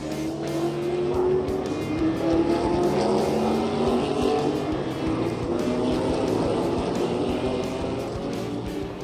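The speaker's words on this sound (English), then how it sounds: "Porsche 962." A Porsche 962 race car engine roars loudly and steadily, its pitch rising and falling as it revs through a pass, with tire noise mixed in and no voices.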